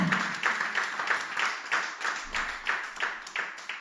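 A congregation at an evangelistic campaign meeting claps together in a steady, rhythmic beat for the Lord, the applause sustained and fairly distant.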